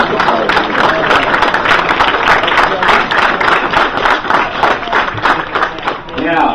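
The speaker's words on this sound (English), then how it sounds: "You can't applaud enough for Starfleet." Audience applause at a wedding reception, a dense steady wash of clapping from a crowd that holds for several seconds and fades slightly at the end.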